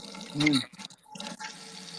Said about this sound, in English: It actually sounds now he's in the shower.